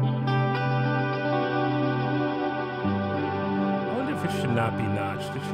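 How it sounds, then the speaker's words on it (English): Electric guitar played through a Fractal Audio rig with a 12-second reverb delay and a slowly sweeping filter, sustained chords smearing into long echoing tails, with chord changes partway through and filter sweeps plus bright swells near the end. "what's happening here is 12 seconds of delay. I have a reverb delay. The filter is moving,"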